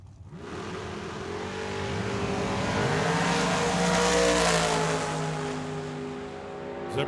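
At Tucson Dragway, a dragster and a Camaro launch side by side down the strip. Their loud engine roar swells to a peak midway, then fades as the cars pull away, with shifting harmonic tones throughout.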